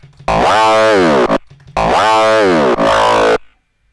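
Heavily distorted FM synth growl bass, made in Reason, sounds in two long bursts with a short stab between, loud and harmonically rich, ending abruptly in silence.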